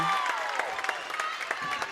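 Crowd noise rising at an 8th grade regional championship basketball game, a broad roar of cheering and clapping in a gym with squeaky tones and shouts mixed in, steady and fairly loud for the whole stretch.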